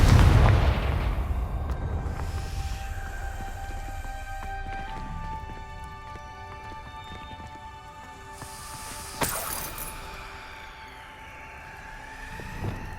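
Confringo spell blast in the game Hogwarts Legacy, a heavy booming explosion at the start that rolls off into a long rumbling decay, followed by a lighter burst and lingering magical ringing tones.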